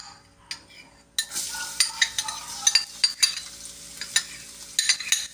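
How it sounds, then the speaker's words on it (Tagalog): Garlic dropped into hot oil in a pan, starting with a sudden burst of sizzling that keeps hissing steadily while a utensil taps and scrapes the pan now and then. "hulog na natin tong bawang"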